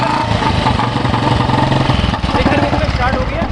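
A restored 1983 Royal Enfield motorcycle, just kick-started, idles with a steady loud thumping beat that runs throughout, with a person talking over the engine.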